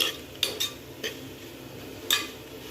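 A utensil stirs half-cooked vegetables and masala in a pot for vegetable brinji rice, with a few sharp clinks and scrapes against the metal over a quiet kitchen background.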